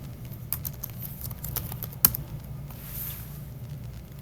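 Keys on a computer keyboard tapped in a steady patter of soft clicks, one sharper keystroke standing out midway, close and fairly quiet with no talking.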